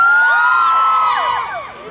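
Fans at a concert at Senayan Park shriek and cheer with high, sliding whoops and screams that overlap densely, then fade noticeably toward the end.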